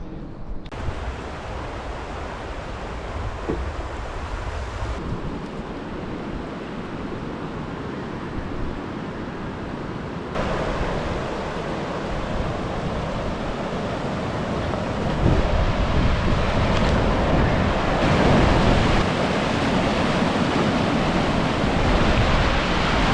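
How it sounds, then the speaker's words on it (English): White water rushing along a river on a countryside walk: a steady, loud, broadband roar that holds and swells slightly, with no voices. "You can't beat a bit of white water"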